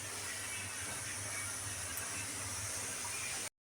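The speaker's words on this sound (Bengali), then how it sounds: "কুকার সিটি মেরেই যাচ্ছে।" A pressure cooker venting steam gives a continuous, even hiss with a low hum underneath, steady and moderately faint for the whole stretch, then cutting off abruptly, no voices.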